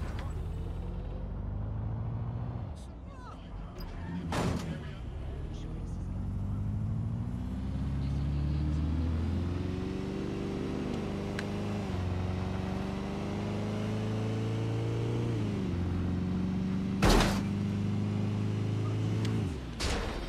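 Car driving in Watch Dogs: Legion, a steady engine drone with rising and falling pitch as the vehicle accelerates and shifts, broken by a few sharp impact thumps along the way, with no voices over it.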